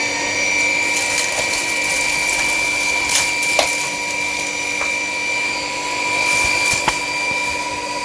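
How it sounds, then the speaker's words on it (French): A Xiaomi G9 cordless stick vacuum cleaner runs steadily on its first power mode, a constant close motor whine with a few brief clicks and rattles of debris, with no talking. "Je vais appuyer sur le bouton de l'aspirateur et c'est parti."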